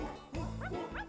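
Dog giving a short yip and a couple of quick bow-wow barks within about a second, close by, with a steady low musical backing under it during a children's yoga session.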